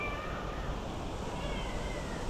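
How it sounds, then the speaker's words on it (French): Cats meowing amid steady background noise, the calls faint and blended into a continuous wash without clear separate cries. "Qu'est-ce qui se passe avec ces chats?"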